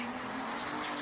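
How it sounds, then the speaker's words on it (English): A car's tires screeching as it speeds along a street, a loud, continuous close squeal with a steady pitched tone under broadband noise, lasting about a second. "He turns around at the sound of a screeching car speeding right into him."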